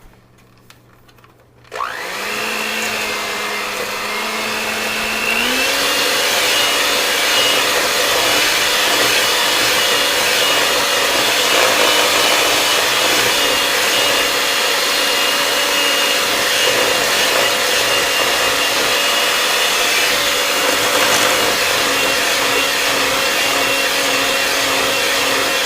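An electric mixer starts up and whirs steadily through ginger snap cookie dough, a loud, continuous motor drone that rises in pitch after a few seconds and holds for a long stretch.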